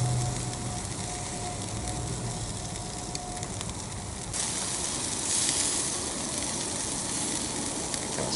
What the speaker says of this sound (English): Kind of searing the sides on it.